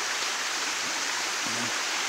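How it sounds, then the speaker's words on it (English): Steady broadband rushing of a shallow, low river flowing through a forest, a continuous even wash of water close by with no voices. "Here's the river. As you see, the river's not deep."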